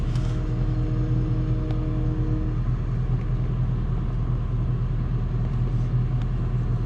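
A semi truck's diesel engine idles steadily while warming up on a snowy haul, a constant low rumble with a brief faint whine early on and no talking.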